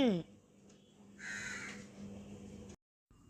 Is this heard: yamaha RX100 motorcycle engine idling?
no